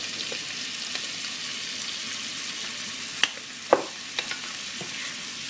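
Salmon and onions cook in a pan, spiced with chili pepper, giving a steady soft frying hiss with a few sharp utensil clicks and taps in the second half.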